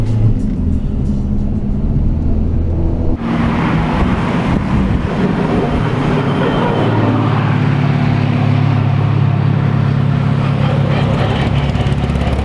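A Renault Clio RS 182 laps Donington race track, heard from inside the car: a loud, continuous engine drone mixed with heavy wind and road roar that shifts in pitch partway through as the car changes speed.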